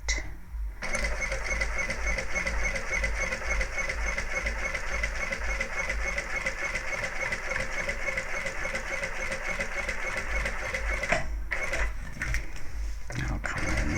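Sewing machine stitches steadily along the edge of an Evelyn handbag, a rapid close mechanical whirr that runs for about ten seconds, then stops with a few faint clicks.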